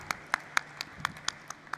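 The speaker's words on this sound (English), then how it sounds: "Let's have a huge, huge round of applause for all our dignitaries." A handful of scattered, sharp handclaps ring out from a sparse audience at a bell-ringing ceremony honouring Grid India dignitaries at an electricity futures launch, roughly eight separate claps over under two seconds, fairly faint.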